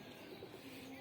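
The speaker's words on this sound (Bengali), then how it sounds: "আমাদের দেশি কবুতর" Domestic pigeons coo softly inside their coop, a faint, low, murmuring call heard close by and alone.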